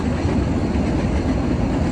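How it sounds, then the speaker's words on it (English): A New York City train roars past at close range, a loud, continuous rumble and rattle with clattering wheels that holds steady throughout. "this train is loud as fuck"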